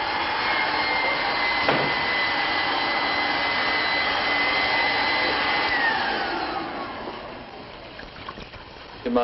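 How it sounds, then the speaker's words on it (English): A loud vacuum cleaner drones steadily nearby, with a faint whine riding on top; it eases off slightly toward the end. "I've been listening to a vacuum all morning."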